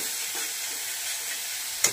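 Hot oil hisses and sizzles steadily in a pan while cooking spiced fish with turmeric, salt and sugar, a continuous close crackle with a brief sharper burst near the end.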